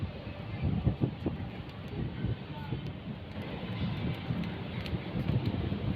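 Gusty wind on a rooftop buffets the microphone in low rumbling bursts, with muffled speech underneath throughout.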